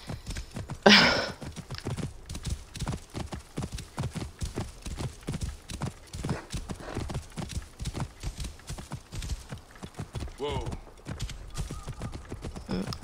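Steady hoof clip-clops of a horse at a walking pace in the video game Assassin's Creed Origins, continuous and fairly close, with a brief louder snort or whinny near the start.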